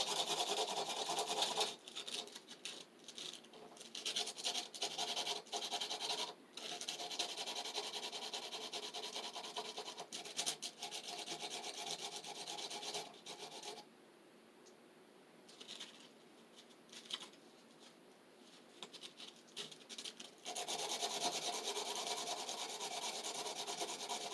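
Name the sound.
sanding by hand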